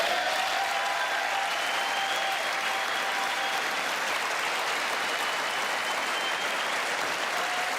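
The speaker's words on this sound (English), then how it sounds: "Kevin McCarthy didn't applaud to that one." Sustained applause from a large audience fills the chamber during a State of the Union address, a dense, steady roar of clapping from start to finish.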